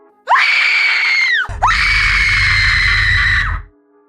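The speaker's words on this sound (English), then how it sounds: "she can unleash this hellish scream that you'd hear from 2 towns away" A woman's high-pitched horror scream, two long piercing shrieks at full volume, the second joined by a low rumble, alone and very close.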